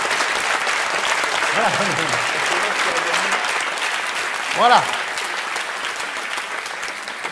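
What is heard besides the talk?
applause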